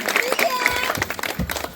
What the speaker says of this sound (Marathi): जोरदार टाळ्या झाल्या पाहिजे परत एकदा.